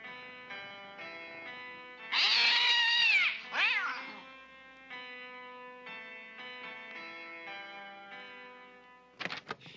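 A cat lets out two loud, drawn-out meows in quick succession over soft, sustained background music, the second cry shorter and falling off.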